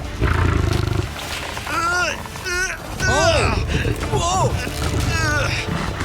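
A lion roaring loudly in repeated deep, rumbling bursts, with other voices calling out over a noisy background.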